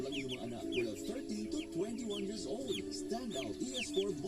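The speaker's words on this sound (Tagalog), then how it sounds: "1 month na ang ating sisiyo, ang ating upgraded native chicken." Month-old upgraded native chickens on a breeding farm cluck and coo continuously, a busy flock chorus of overlapping calls close by, with higher chirps mixed in throughout.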